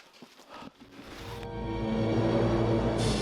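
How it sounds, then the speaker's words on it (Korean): Donkey hooves clop over the rocky mountain trail at Petra, Jordan, a few quick steps at the start before a loud, steady gust of wind takes over. "힘든 여행자들을 위해서는 당나귀가 대신 산을 오르기도 한다."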